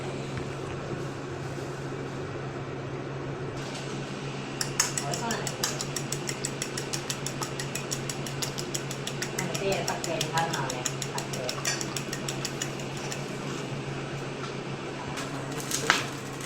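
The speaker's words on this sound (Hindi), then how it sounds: "हमने 2 अंडे लेके उनको फेंट लें।" Two eggs being beaten in a bowl with a utensil, producing a quick, rhythmic run of clinking strokes over a low steady background hum, with a final short burst near the end.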